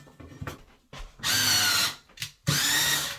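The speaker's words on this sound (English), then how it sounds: "we're going to screw this thing to the box" A power drill drives screws to fix a light fixture mounting plate to an electrical box, two loud whirring bursts separated by clicks and handling noise, close up.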